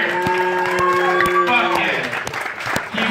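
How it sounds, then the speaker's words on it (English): Audience applause with sharp scattered claps and some cheering rings out over a sustained tonal backdrop, loud and close throughout the short burst, with voices mixed in. "Give yourself a round of applause"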